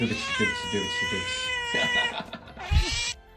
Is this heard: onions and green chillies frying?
no